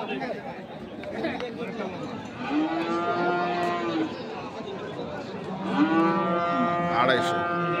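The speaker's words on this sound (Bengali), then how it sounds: "বলদ তো এগুলা" Bullocks lowing at a busy Chittagong cattle market, with several long, drawn-out moos rising over a steady murmur of crowd chatter and voices close by.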